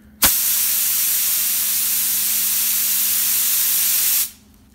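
A spray gun lays a mist of candy paint at raised air pressure: one steady, loud hiss that starts abruptly, holds evenly for about four seconds and then cuts off, with no voices.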